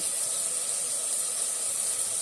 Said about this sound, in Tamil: பாருங்க, நல்லா வதங்குதுங்களா?